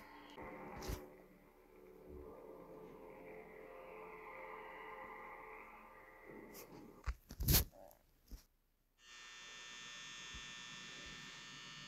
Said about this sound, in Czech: mám tady větráček, super